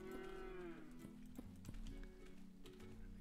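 A cow gives a long, close moo that slides downward, then hoofed thuds, taps and shuffling follow while the heavy animal appears stuck on a property.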